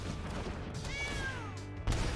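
A single brief meow from a cat card in MTG Arena, rising then falling in pitch, rising clearly over a steady bed of game music and effects during a Rakdos Sacrifice Standard match.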